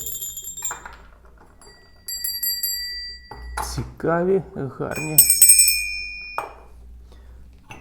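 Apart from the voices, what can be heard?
small bells being handled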